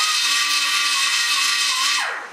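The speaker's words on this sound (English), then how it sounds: "I take my die grinder, put a ball, and I'm going to go in here." A die grinder fitted with a ball bit grinds into the lifter galley of a small-block Chevy 334 stroker engine block, a steady high-pitched whine held close and loud for about two seconds before it winds down at the end.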